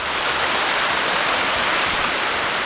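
A creek in the woods rushes and gurgles with a constant, loud broadband hiss of flowing water and no voices.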